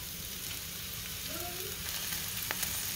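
Onion frying in a pan for Thai basil chicken, giving a dense, even sizzle close up with a faint stir and a single sharp tick of the utensil late on, no speech.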